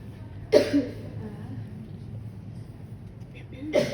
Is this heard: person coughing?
yes